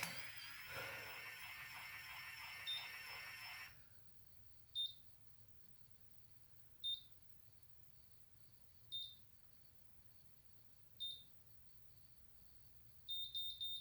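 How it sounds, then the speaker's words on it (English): A loud buzzing tone at first, then a series of short high-pitched electronic timer beeps from an Infiniti Pro Conair Curl Secret curling iron at regular intervals, ending in a quick triple beep. "Okay, that first 3 beeps."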